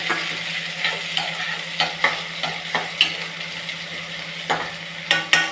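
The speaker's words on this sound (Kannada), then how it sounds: "ಕರ್ಬೇವಿನ ಸೊಪ್ಪು ಹಾಕಿ ಸ್ವಲ್ಪ ಬಾಡಿಸ್ಕೊಳ್ಳೋಣ." Onion, green chilies and curry leaves sizzle in a pan with a steady, soft frying hiss, while a spoon scrapes and stirs in repeated, irregular clinks and sweeps, close and with no talking.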